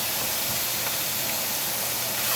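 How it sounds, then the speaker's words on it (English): Shrimp cooking in a Calphalon wok: a steady, even sizzle with a bright hiss that holds unbroken from start to end. "I'm just going to let these shrimp cook"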